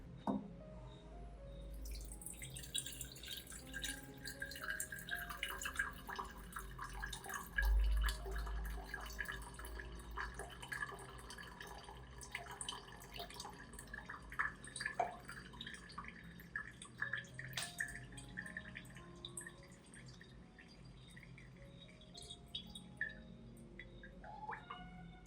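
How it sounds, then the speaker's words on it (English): Liquid orchid fertilizer mixture trickles and drips softly through a strainer, a faint, quiet patter of small irregular drops continuing close by. "I strain the mixture to get a smooth liquid that's easier for the plant to absorb"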